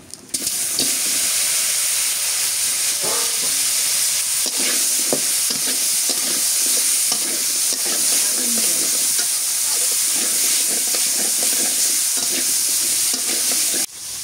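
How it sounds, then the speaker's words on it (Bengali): Nigella seeds and bitter gourd frying in hot oil in a rural outdoor kitchen: a loud, dense, continuous sizzle with scattered utensil scrapes and clicks throughout, close up. "এই তেলের মধ্যে দিয়ে দিই কটা কালো জিরা, দিয়ে দিই করলা"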